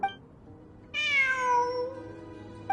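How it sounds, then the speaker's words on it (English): A single drawn-out cat meow from Genshin Impact rises sharply and then slowly trails off over a faint game background, loud and close with no talking. "It really is a cat."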